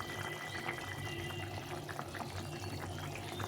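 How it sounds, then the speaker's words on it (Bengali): A pot of raw banana and potato curry with gram flour fritters simmers quietly, giving soft, low bubbling and faint liquid sounds at close range without talk. "একটু ফুটে নিতে হবে ডালের বড়া হলে বেশিক্ষণ ফোটানো যায় না কিন্তু বেসনের বড়া একটু ফোটানো যায়"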